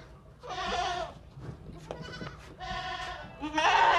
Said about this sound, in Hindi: और ये बकरी चेक करें, गंजी बकरी है, बगैर सिंगों के है